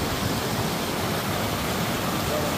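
Venable Creek, a steep and rocky mountain stream in the Sangre de Cristo range in June, rushes with a steady, broadband roar, close and continuous, with no voices over it.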